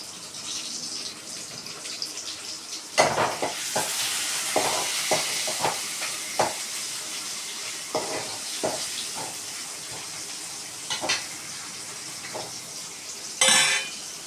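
Dried fish being sautéed with a little salt in a pan for a Tamil karuvadu curry, with a steady frying hiss under repeated scraping and stirring clinks of a utensil against the pan, close and moderately loud.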